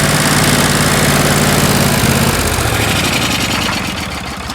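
A John Deere LT166 lawn tractor engine runs steadily on choke, a loud continuous drone that holds at first and then eases slightly in the last second.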